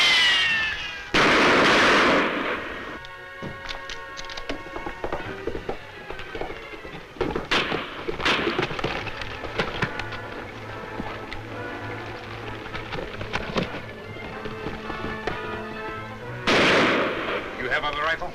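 Rifle shots crack out in a western TV episode, a sharp blast early and another near the end, with scattered gunfire and dramatic music between them and no talk.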